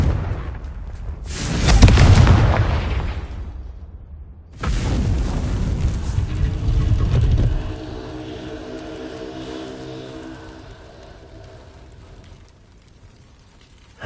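Confringo fire spell bursting in the Hogwarts Legacy video game: two heavy booming explosions a few seconds apart, the first swelling and rumbling away, the second a sharp blast that lingers into a long fading roar and crackle.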